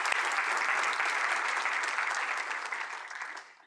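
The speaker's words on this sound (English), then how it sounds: "let's give them another round of applause to the 5 graduating companies" A startup showcase audience gives a steady, full round of applause for graduating companies, holding dense and even before tapering off near the end.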